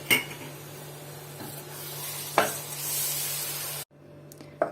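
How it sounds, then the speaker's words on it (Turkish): A spoonful of butter melts into a hot honey mixture for a medovik cake and is stirred in. A soft, steady sizzle runs under occasional spoon scrapes and clinks, then cuts out abruptly. "Hemen bir kaşık tereyağı ekliyorum."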